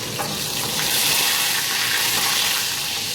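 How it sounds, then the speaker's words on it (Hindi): Green chilies fry in a hot pan, a steady bright sizzle with crackling spatter that swells slightly midway, close up and with no talk over it. "और मिर्चें हमारी फ्राई हो रही हैं"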